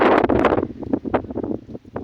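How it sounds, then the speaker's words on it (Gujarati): Wind gusts across a cumin field in rough, buffeting bursts that rumble against the microphone, strongest at first and then easing into weaker puffs. "પવન એવો આવે છે"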